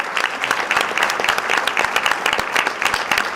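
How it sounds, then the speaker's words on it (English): Banquet audience applauding steadily, a dense patter of many hands clapping close by, sustained and even throughout with no talk over it. "So let's give her a hand again."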